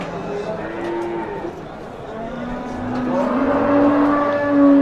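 Cattle and cows low at a livestock market in Chust, Namangan region, with several long, drawn-out moos overlapping close by against busy market background noise.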